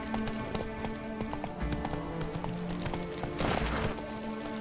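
Hooves of Roach the horse clatter at a gallop in The Witcher 3, a quick rhythmic clip-clop over a music-laden game soundscape with a brief burst of louder rushing noise near the end.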